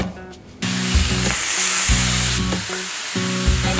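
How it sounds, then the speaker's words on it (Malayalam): Pork ribs hit a hot grill with a sudden loud sizzle that swells into a steady, close hiss, broken by low thumps and scraping as the meat is laid down and shifted. "നമ്മുടെ ഗ്രിൽ പോർക്ക് റിബ്സ് അങ്ങനെ ഗ്രില്ലിൻ്റെ മുകളിലേക്ക് ഇട്ട് കൊടുക്കുകയാണ്"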